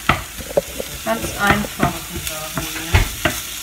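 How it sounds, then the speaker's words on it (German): Food sizzles while frying in a pan, with a constant crackle broken by louder stirring scrapes and clatters; a voice briefly speaks. "Und dann kommt das gleich einfach da rein und muss brutzeln"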